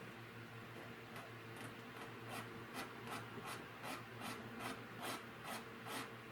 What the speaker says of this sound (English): you're just doing light little scratches that you're going to be putting in here